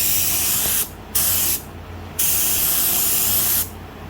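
A paint spray gun lays down a light, dry dusting coat, a loud close steady hiss in three bursts broken by brief pauses.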